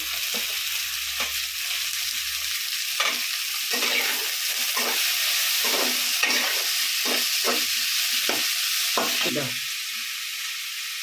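Tomatoes fry in a pan with cinnamon and cloves while being stirred for a Tamil three-vegetable kuzhambu, a steady close sizzle broken by repeated scraping strokes of the spoon.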